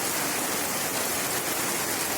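Very heavy rain pours steadily over a hydroponic setup outdoors, a dense, continuous broadband hiss with no pauses, fairly close and loud, and no voices present.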